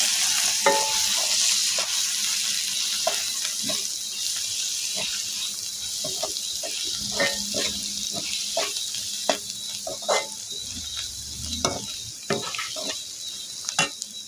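A spoon scrapes and clinks repeatedly against a pan as a turmeric and chilli powder mixture is stirred, with a soft sizzle running underneath throughout.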